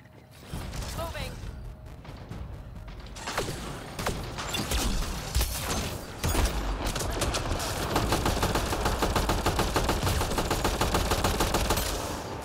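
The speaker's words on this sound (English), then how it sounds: "who the hell's shooting at me?" Dense automatic gunfire in the Mass Effect: Andromeda shooter game on PlayStation 4, a continuous rattling barrage of rapid shots with heavy background combat noise, loud and sustained throughout, with some mechanical clatter mixed in.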